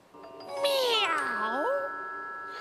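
A person imitates a cat with one long, drawn-out meow that swoops down in pitch and then rises, loud and close.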